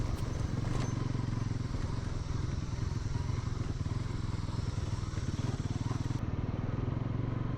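A Bajaj Pulsar motorcycle rides over a rocky, broken off-road track on the way to Sikkim, its engine a loud, steady, close rumble with faint clattering from the rough surface throughout.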